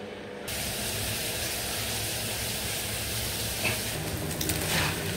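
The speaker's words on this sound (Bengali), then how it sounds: "তো এইখানে যে আমি পোলাও চালটা ভেজে নিচ্ছি।" Polao rice toasting in a pan in a home kitchen gives a steady, even hiss that runs alone and unbroken for several seconds, with a faint brief rise near the end.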